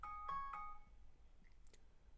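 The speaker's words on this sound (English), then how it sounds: "As you can see and hear, the app starts ringing" Android app alert ringtone ringing from a phone, a few quick harmonic chime bursts at the start that fade out, followed by faint scattered blips.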